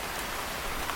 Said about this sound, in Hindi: कितना ज़्यादा अच्छा बारिश हो रहा है